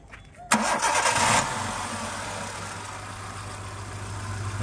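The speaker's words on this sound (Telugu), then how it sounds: "ఇంజన్ స్టార్ట్ చేయి" A 2006 Hyundai Santro Zing engine cranks with a sharp burst, catches within about a second, and settles into a quiet, steady idle close by.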